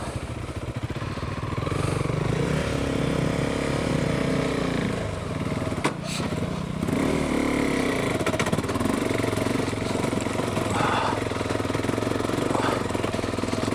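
A KTM 390 Adventure motorcycle rides off-road on loose ground with a steady, loud engine drone that rises and falls with throttle changes, struggling in second gear at low speed, with no pauses throughout.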